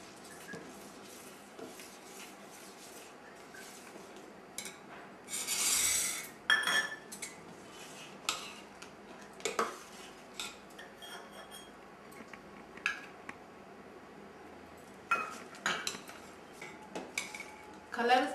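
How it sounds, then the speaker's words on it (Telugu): A spoon stirring milk with custard powder and sugar in a pot for fruit salad, giving repeated clinks and scrapes of metal on metal that come in irregular bursts over a faint background. "చక్కెర కరిగాక కస్టర్డ్ పౌడర్ కలిపిన పాలు ఇందులో పోసుకుంటూ కొంచెం కొంచెం ఇలా కలుపుకోవాలి"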